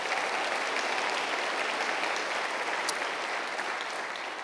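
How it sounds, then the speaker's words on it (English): A crowd at a sports awards ceremony applauds for Neil Everett, a dense, even, steady clapping that continues loudly throughout without any talking. "so clap it up for Neil Everett here, please"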